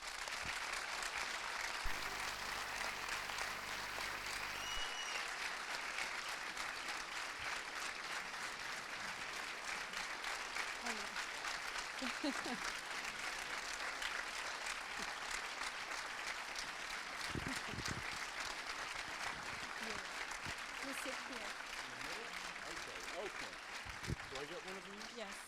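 Long, sustained audience applause welcoming film director James Gray to a masterclass, a dense even roar of clapping from a large crowd lasting well over twenty seconds with a few thuds near the end.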